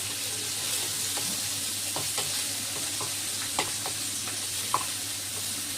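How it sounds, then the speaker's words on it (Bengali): Bitter gourd coated in salt and turmeric fries in a pan with a constant close sizzle, punctuated by scattered light clicks and scrapes of stirring. "এই যে করলা আমি এখানে ভাজা বসিয়ে দিয়েছি নুন হলুদ মাখিয়ে"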